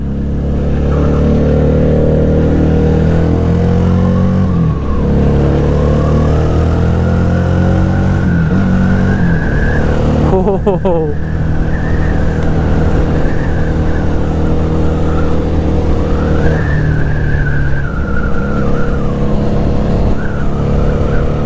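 A Victorino 250i 250cc V-engine motorcycle revs loudly and steadily, its pitch rising and falling through several throttle blips, close up with no talking.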